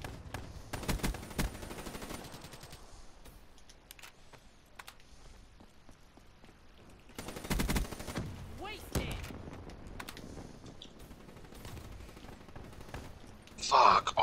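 Gunfire in a fast-firing video game: rapid bursts of shots crackle at the start and again in the middle, with quieter stretches between and a loud burst at the end, while players talk over it.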